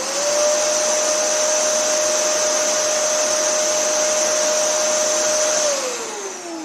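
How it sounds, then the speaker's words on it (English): A vacuum cleaner powered through a Renogy 2000W pure sine wave inverter runs with a loud, steady whine and airy roar, then begins winding down at the end. "once the vacuum is running, it only takes about 700 watts"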